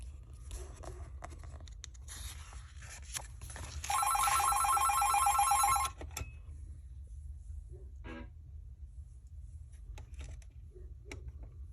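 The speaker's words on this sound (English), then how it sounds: "Sorry about that. We got the old phone here in the garage." An old telephone in a garage rings with a single loud electric bell burst lasting about two seconds, standing out over quiet room tone before scattered faint clicks and handling noises.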